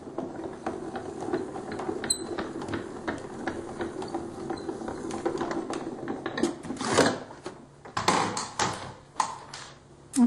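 A Grand Calibur embossing machine runs a card through its base plate and embossing plates, giving a stream of soft rapid clicks and rattles that turn into louder, more irregular clunks and cranks toward the end.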